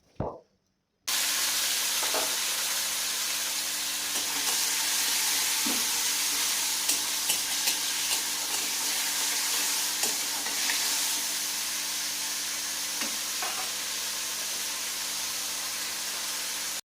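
Tomatoes hit hot oil in a tempering of popped mustard seeds, dried chilies and garlic for Odia tomato khata, bursting into a loud, steady sizzle broken by occasional stirring clicks and spatters.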